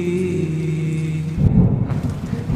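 Rain and a rumbling thunderclap are layered over a slowed, reverb-heavy version of Anuv Jain's Baarishein, with steady rainfall and a deep thunder swell rising midway.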